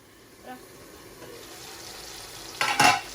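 Rohu fish and pointed gourd fry in a pan while being stirred: a soft sizzle and light scraping build gradually, then a louder, brief burst of hissing and clatter at the end.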